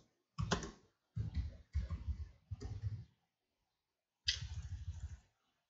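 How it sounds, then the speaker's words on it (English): Quick bursts of typing on a computer keyboard, close and fairly loud: four clattering runs of key presses in the first three seconds, a pause, then one more run near the end. "You go to Google and type online C compilers."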